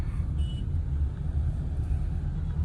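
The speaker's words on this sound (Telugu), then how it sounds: "ఇది ట్రాఫిక్" Early-morning road traffic in Bangalore around a quarter to six, heard as a steady low engine rumble of cars and heavier vehicles, continuous and moderately loud with no clear separate pass-bys.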